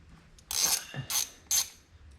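Screws are loosened from the top of a car carburetor with a hand tool, giving three or four short, close metallic clicking ratchet bursts separated by brief pauses in a quiet room.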